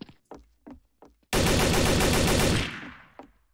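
A sustained burst of rapid automatic gunfire in Garry's Mod, loud and close, lasting about a second before trailing off, preceded by a few scattered clicks and thumps.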